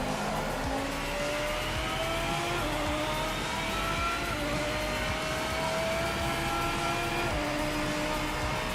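Mid-engine race car in the Project Motor Racing video game holding a loud, steady engine drone with gradually rising and falling pitch, faint tire scrub underneath, continuous and close throughout without any voices.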